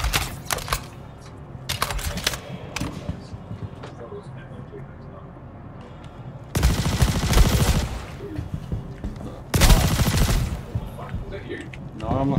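Bursts of automatic gunfire erupt in the Star Citizen video game during a combat mission, two loud sustained volleys plus scattered shots, with players talking over the action.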